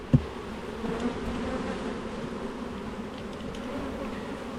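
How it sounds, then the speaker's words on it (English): Honeybees buzz steadily around an open Langstroth hive during an inspection, a soft, continuous hum of many insects heard close but quietly, with a brief knock at the start. "Lots of bees."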